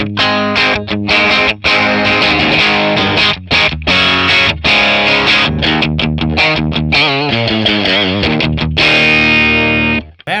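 An electric guitar runs through a Tonex overdrive pedal kit set to its drive mode, playing loud, continuous distorted chords and riffs with brief gaps between phrases, alone with no talking.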